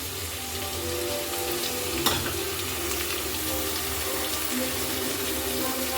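Ingredients for a hotel-style vegetable pulao frying in a pan, giving a steady close sizzle with one brief clatter of a utensil partway through and no speech.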